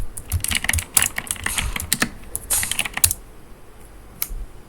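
Keys clatter in quick irregular bursts of typing on a computer keyboard, close and fairly loud, with a brief pause near the end and no voices.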